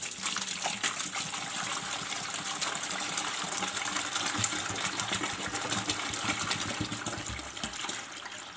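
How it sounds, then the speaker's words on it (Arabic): Water pours steadily into a 5 liter plastic bottle, a continuous rushing gush that holds an even level throughout with no voices. "معانا في البداية المية اهي"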